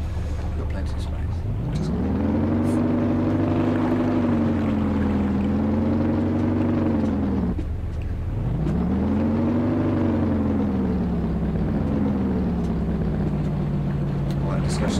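A boat engine revs up loud and close during stern-to mooring, its pitch climbing and falling twice in long sweeping surges over a steady low rumble, with people talking over it.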